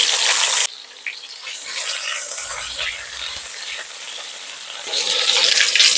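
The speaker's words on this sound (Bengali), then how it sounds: "আমি এবার দিয়ে দেব কেটে রাখা আলু।" Cut potatoes tipped into hot oil with bay leaf tempering in a pan, a loud broadband rush of frying that starts abruptly, settles into steady sizzling with some soft clatter, then swells again.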